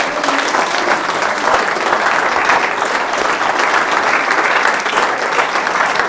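Steady applause from an audience at a political campaign visit in Minocqua, northern Wisconsin, filling the space with dense, even clapping that holds at full strength from start to finish, with no break and no voices standing out.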